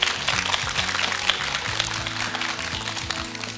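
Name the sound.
audience applause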